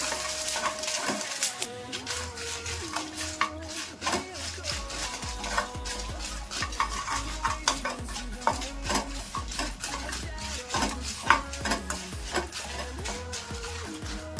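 Dried red chillies, including byadgi chillies, fry in a pan with a soft sizzle under repeated scraping and stirring of a metal spoon, close and steady throughout.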